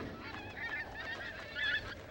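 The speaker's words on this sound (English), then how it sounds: "The geese have come to their tundra nesting grounds" Geese honking as they arrive at their tundra nesting grounds on Alaska's North Slope in spring snowfall, a steady chorus of overlapping calls with a louder burst near the end, moderately close and without voices.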